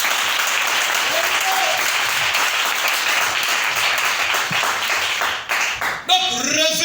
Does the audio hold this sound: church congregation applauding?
yes